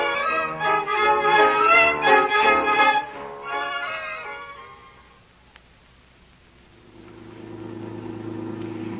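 A car engine runs as the car drives in an old radio drama, a steady mid-pitched hum that settles after a loud stretch of music and builds again near the end, with no talk.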